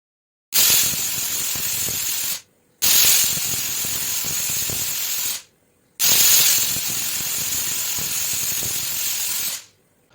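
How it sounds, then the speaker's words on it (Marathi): A pressure cooker whistles three times in a kitchen, each a loud, sharp hiss of escaping steam lasting about two to three seconds, separated by short silent gaps. "तोपर्यंत आपल्या कुकरच्या तीन शिट्ट्या झाल्यात"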